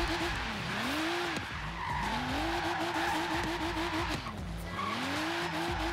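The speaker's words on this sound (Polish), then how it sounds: "2800 punktów za taki drift tutaj" A car drifts in Forza Horizon 3, its tires squealing in long sweeping wails while the engine revs and dips through the slides, loud and close, with no talking.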